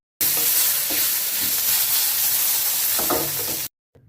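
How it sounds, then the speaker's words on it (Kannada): Chopped onion, tomato and green chillies fry in a little oil, a loud continuous sizzle close up with occasional stirring scrapes, then cutting off abruptly into near silence. "ಕಟ್ ಮಾಡಿರೋ ಈರುಳ್ಳಿ, ಟೊಮೊಟೊ ಹಾಗೆ ಹಸಿಮೆಣಸಿಕಾಯಿನ ಹಾಕ್ಕೊಂಡು ಸ್ವಲ್ಪನೇ ಎಣ್ಣೆ ಸೇರಿಸ್ಕೊಳ್ತಾ ಇದನ್ನು ಕೂಡ ಫ್ರೈ ಮಾಡ್ಕೊಳ್ತಾ ಇದ್ದೀನಿ"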